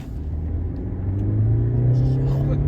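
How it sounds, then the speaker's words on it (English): A synthetic diesel engine note played through the speakers of a 2022 Mercedes-Benz C220d W206, rising in pitch inside the car, a smooth droning hum swelling louder over a low road rumble. "they're playing the engine tune through the speakers"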